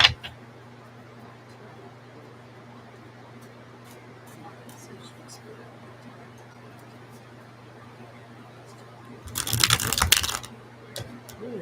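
Tarot cards being shuffled in a brief, loud riffling burst near the end, close up after a stretch of quiet room tone with light tapping.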